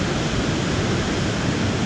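Water rushes over a spillway waterfall in a dense, constant roar of broadband noise, close and loud with no other sounds.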